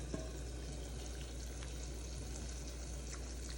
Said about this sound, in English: as you can hear, it's starting to sizzle.